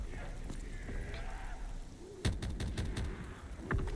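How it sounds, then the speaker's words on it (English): Gunfire in a custom Black Ops 3 Zombies map, a quiet stretch followed by a sudden cluster of sharp shots in the second half, then one more burst near the end, with faint background game sounds. "And we got to shoot some stuff."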